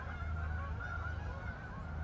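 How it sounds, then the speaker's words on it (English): A flock of geese honks while flying overhead outdoors, a steady run of overlapping honks heard at moderate distance, fairly faint, with no speech. "Geese are flying over, so this is a good test for background noise and see how well it picks it up."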